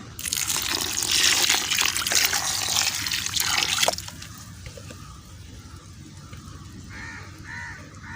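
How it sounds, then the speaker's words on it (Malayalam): A potted curry leaf plant in a wood ash soil mix is watered, a loud gushing pour for about four seconds that stops abruptly, then a quieter trickle while a crow caws in the background. "ഇനി നമുക്ക് ഇതിലോട്ട് ഈ ചെടിക്ക് നമുക്കൊന്ന് വെള്ളം ഒന്ന് നനച്ചു കൊടുക്കാം"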